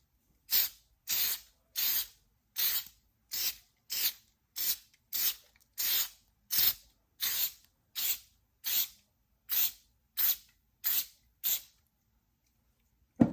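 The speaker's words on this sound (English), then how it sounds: "Now we're gonna just spray paint it one more time with our shellac." Short bursts of shellac spray hiss repeat at a steady pace onto a tray, about eighteen quick sprays in a row, close and fairly quiet with silence between each.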